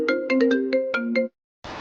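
A mobile phone ringtone plays a melodic run of bright electronic tones for over a second, then stops; after a short silence a burst of broadband noise follows.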